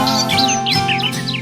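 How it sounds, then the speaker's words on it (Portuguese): Several birds chirp and trill at dawn in a rural Brazilian backland setting, bright repeated tweets close and clear over a steady low background hum. "já posso ouvir os passarinhos a cantar"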